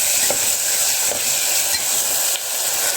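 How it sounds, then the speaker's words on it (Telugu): Ginger paste and tomato sizzle loudly in hot oil for bagara rice, a steady close frying hiss with occasional soft stirring scrapes. "అల్లం పేస్ట్ యాడ్ చేసుకొని అది కూడా ఫ్రై చేసుకోవాలి."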